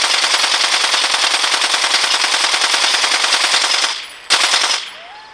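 A gun in the Blitz Brigade video game fires a long, rapid, steady automatic burst for nearly four seconds. After it stops, one short extra burst follows and then a quiet tail. There is no talk.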